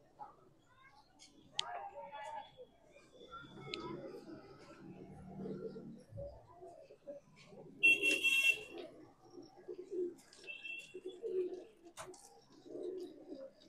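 Gola pigeons kept for sale coo in soft, low, rolling bursts that repeat through the scene, with a few brief higher squeaks and a voice talking nearby.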